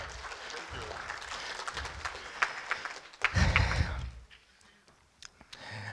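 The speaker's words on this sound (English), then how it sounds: "An applause for the guys, please." Audience applause at a .NET developer conference session, a steady wash of clapping that swells near the middle, then fades out, with a presenter's voice talking over it.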